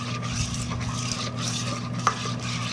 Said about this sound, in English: I'm just gonna stir this until it comes together